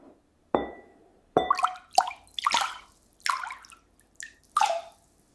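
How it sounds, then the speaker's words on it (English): Water sound effect in an AI-generated Google Veo 3 clip of water poured from a knocked glass: a series of six or seven distinct wet plops and splashes in irregular rhythm, fairly close and clear, with no talking. "It does have some really good sound effects though in the background for that water that matches the timing"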